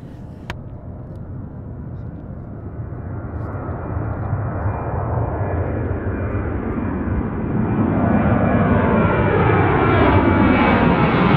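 A Southwest jet airliner rolls for takeoff on runway 1 at Reagan National Airport, its engines building into a loud, rising roar that swells toward the end, heard from outside near the field.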